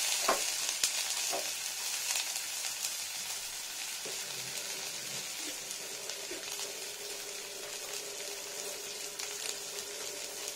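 Ginger, onion and garlic frying in mustard oil in a pan, a quiet steady sizzle with occasional soft scraping and stirring clicks, heard close with no voices.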